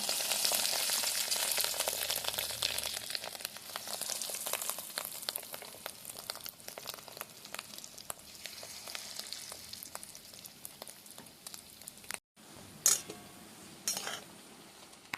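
Fish roe fritters fry in oil with a steady, hissing sizzle, and a few metal utensil clinks come near the end.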